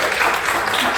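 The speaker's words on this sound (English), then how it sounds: "Let's give Naheed a round of applause" An audience breaks into sustained applause for a speaker. The close, loud wash of many hands clapping holds evenly from start to finish.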